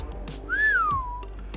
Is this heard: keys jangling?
no